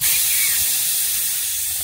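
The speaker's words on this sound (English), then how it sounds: "Just letting the gas go so we can get it out a bit easier." Pressurised gas hissing steadily out of a shock absorber during suspension work on a Toyota, a continuous close, loud broadband hiss lasting the whole moment.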